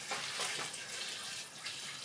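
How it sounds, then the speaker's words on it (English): Hot boiled water poured from a pot over sliced onions, a steady, close splashing rush of liquid that runs throughout with no talking. "I'm going to dump it right over these onions."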